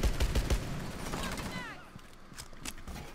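A quick volley of gunfire aimed at a ceiling in Rainbow Six Siege, several loud close shots packed into the first half second, then fading mechanical creaks and clatter while players talk.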